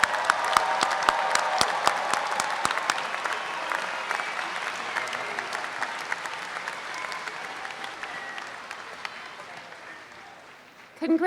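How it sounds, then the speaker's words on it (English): A large audience applauds 2016 Master of Science graduates at a Berkeley Engineering commencement ceremony, dense sustained clapping in a big hall that slowly fades before a voice returns at the end. "Let's give a big round of applause to all our 2016 Masters of Science graduates."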